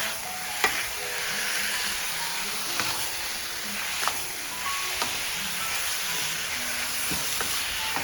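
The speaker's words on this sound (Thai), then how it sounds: "พระเอกของเราก็คือหมึกสายนะคะใส่ลงไปเลย ผัดเลยค่ะ" Long squid tentacles stir-fried in a hot pan for a Korean-sauce squid dish, giving a steady close sizzle throughout with sharp scrapes and clacks of a utensil against the pan every second or so.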